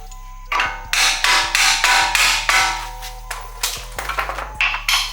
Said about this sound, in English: So you can tap it just a little bit.